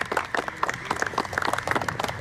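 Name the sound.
audience applause at cricket presentation ceremony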